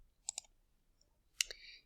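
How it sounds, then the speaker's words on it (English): A computer mouse clicks a few times, a quick double click followed by another pair of sharp clicks, close and quiet against near silence. "So I'm going to click on this spinner here."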